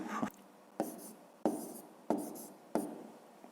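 Pen writing out a multiplication of 127 by 127 on paper, five distinct bursts of scratchy strokes separated by short pauses, close and fairly quiet with no speech.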